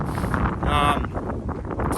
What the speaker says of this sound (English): It's been windy all day, no reprieve